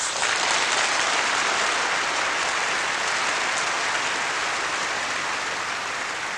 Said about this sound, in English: Listen to the deafening applause from the West, from beyond the sector boundary, from the forces of freedom.